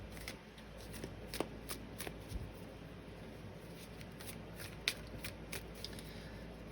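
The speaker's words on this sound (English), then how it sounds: "Let's get another card for the connecting energy between you," Tarot cards shuffled and drawn, a soft, continuous riffling and flicking with a few crisper snaps, close and quiet and heard alone.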